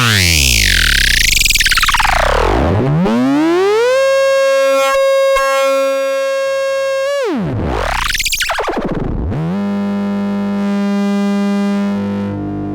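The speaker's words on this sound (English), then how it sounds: "So I patched two sine waves in." A Eurorack modular synthesizer plays two patched sine-wave voices: loud, pure gliding tones that sweep up and down, hold steady pitches, then slide again, with warbling effects and echo throughout and no talking.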